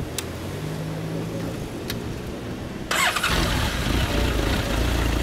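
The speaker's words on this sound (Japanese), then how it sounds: "エンジン音聞かせてもらえますか？" A Honda CB1300 Super Bol d'Or (SC54) motorcycle engine cranks and fires near the end of a brief quiet spell, then settles into a steady, loud idle that carries to the end with no one speaking.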